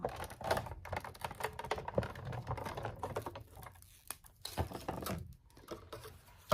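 A die cutting machine rolling paper through with an impressions pad to emboss it, giving a quick crunchy clicking and pattering texture with uneven bursts and brief pauses, close and fairly quiet.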